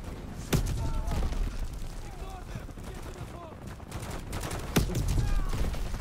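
Gunshots in Call of Duty Modern Warfare 3, Operation 627 on Veteran: two sharp, loud shots about four seconds apart over steady battle noise, with voices talking in the background.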